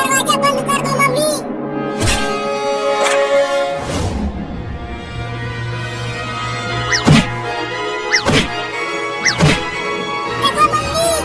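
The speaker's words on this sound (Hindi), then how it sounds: "वो कमीनी बिलार दरवाजे को कैसे मार रही है" A cartoon cat bangs on a door: about six sharp, irregular thuds ring out over a steady tonal background, with a little voice sound in between.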